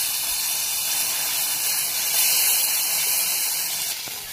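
Fresh ginger paste dropped into hot oil tempered with dried red chillies and cumin, a loud, steady hissing sizzle that holds for a few seconds before easing slightly at the end.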